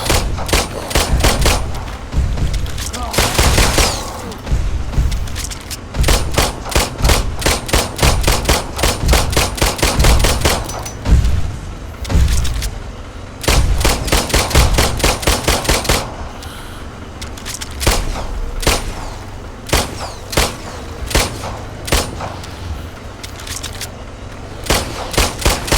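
Rapid gunfire from the VR wave shooter The Brookhaven Experiment, with dense bursts of repeated shots in quick rhythm, brief pauses between volleys, loud and continuous across the stretch.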